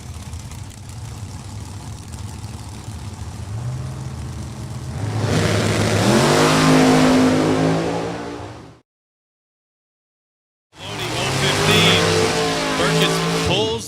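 A dragster at New England Dragway idles and then revs up loudly with rising engine harmonics, cutting to silence before another burst of engine noise, with people talking over the racket.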